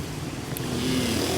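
Motorcycles pass along a city street near a school, a steady engine drone with a rising whine that stays moderately loud through the short moment, no talking over it.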